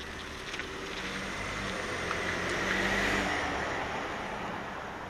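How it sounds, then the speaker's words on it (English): A big black truck drives past a gas station, its engine rumble swelling as it nears and then fading away, with no talk over it. "Another big black truck."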